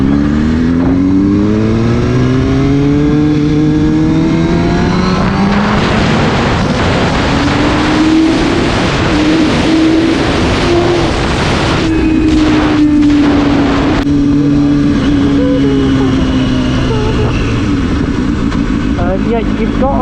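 A 2005–2006 Kawasaki Ninja ZX-6R with a 636cc engine climbs through the revs while accelerating onto a motorway. Its engine note rises, dips with gear changes, then rises again under loud, steady wind rush close to the rider.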